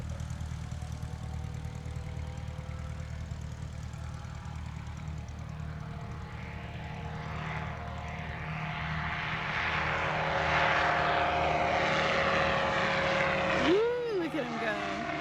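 A small propeller airplane takes off from runway 23 at Zephyrhills on a solo flight. Its engine drones steadily and swells louder as it accelerates. Radio chatter and voices can be heard over it.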